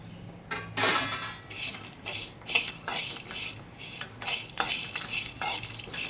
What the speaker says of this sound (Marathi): हे सर्व मसाले आपण हलके गरम करून घेऊया